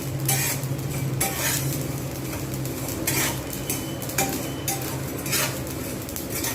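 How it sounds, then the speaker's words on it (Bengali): Rice is dry-roasted for chal bhaja laddu and stirred steadily in a pan, with rhythmic metal scraping and clinks over a soft sizzle, close and moderately loud, no voices. "বেশ কিছুক্ষণ সময় নিয়ে কিন্তু এভাবে চালটাকে আমাকে ভেজে নিতে হবে।"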